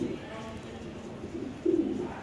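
Pigeons at a sale with their young coo softly in a couple of short low bursts, the last one louder, fairly close, with voices faintly around.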